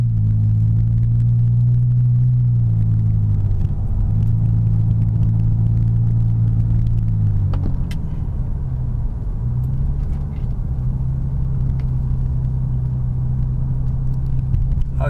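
BMW E60 5 Series pulling away from a stop with sport mode switched off, a steady low in-cabin engine drone whose pitch climbs and dips through gear changes, continuous and fairly loud with no talking.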